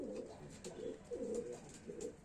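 Young pet pigeons or doves coo softly in a series of low, rounded calls that rise and fall in short phrases, faint and fairly close, with no talk.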